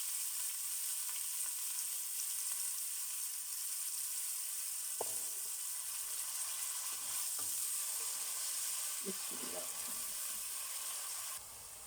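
Chopped onions frying in melted ghee for mung dal give an even, continuous sizzle close by, with a few soft stirring clinks partway through.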